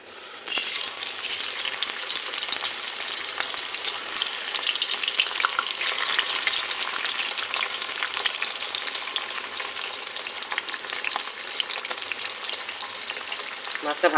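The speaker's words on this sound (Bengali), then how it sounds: "এবার এক এক করে মাছগুলো ছেড়ে দেবো।" Parshe fish are laid one by one into hot oil in a wok, bursting into a loud, continuous close sizzle with crisp popping and crackling that runs unbroken to the end.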